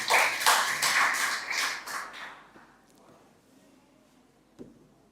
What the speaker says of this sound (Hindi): एक मरतबा ज़ोरदार तालियों के साथ इजाज़त दें।